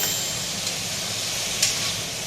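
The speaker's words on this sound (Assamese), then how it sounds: "এতিয়া মই এনেই অকণমান অলপ ভাজি লওঁ বস্তুটো" Pointed gourd (patal) frying in a pan for an Assamese sarsari, a steady, close hiss of sizzling oil that runs throughout, with a couple of faint clicks of stirring.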